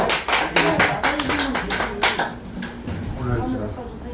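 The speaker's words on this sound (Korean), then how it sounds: "박수!" An audience claps at the start of a real-estate investment lecture, a brief burst of close hand claps over the first two seconds that fades into murmuring voices and room noise.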